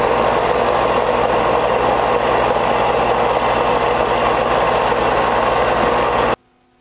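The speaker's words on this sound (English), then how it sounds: "now I'm going to take this to the sander and just refine it just a little bit" A power sander grinds a homemade spray gun nozzle, a loud, close, steady whirring roar that holds without a break and then cuts off abruptly just before the end.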